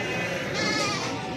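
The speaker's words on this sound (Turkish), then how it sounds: "Bunlar da keçiler." Goats bleat at a livestock market in Barda, several wavering nasal cries overlapping at mid distance above a busy crowd murmur.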